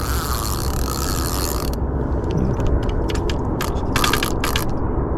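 A fishing reel's drag clicks rapidly and loudly as line pulls out, a dense ratcheting buzz that keeps running under heavy wind or engine rumble on the water.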